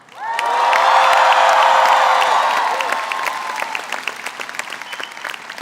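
A graduating class at a college spring convocation ceremony bursts into loud, sustained applause and cheering that fills a large hall, with whoops over the clapping before it thins into scattered claps.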